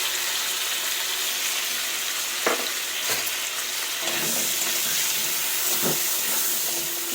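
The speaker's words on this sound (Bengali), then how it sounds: "এটাকেও আমি সুন্দর করে কিন্তু ভেজে নেব আর ভাজার সঙ্গে সঙ্গে সেদ্ধও হয়ে যাবে" Potato pieces with tomato fry in hot mustard oil seasoned with salt and turmeric, a continuous close sizzle with a few sharp stirring clicks against the pan.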